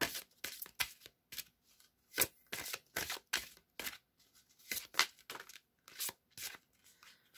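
Tarot cards spill and get handled at close range, making a run of quick papery flicks, slaps and shuffles in irregular bursts, some sharp and some soft, between brief quiet gaps with no voices.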